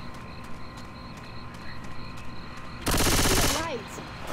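Gunfire in Left 4 Dead 2, a loud sustained burst of automatic shots lasting under a second, close and dense, set against game ambience.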